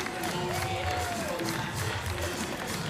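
A crowd cheers and roars at the X Games Ventura 2024 women's skateboard street elimination, a steady wash of outdoor spectator noise with a faint tonal voice drifting through it.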